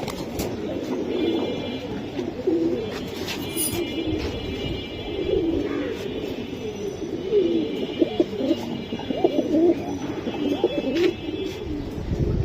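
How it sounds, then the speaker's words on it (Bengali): Silver pigeons coo steadily and close by, with several birds' soft rolling calls overlapping throughout against a low background hum. "খুবই সুন্দর সিলভার কবুতর"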